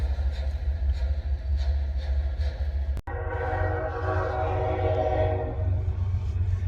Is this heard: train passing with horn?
yes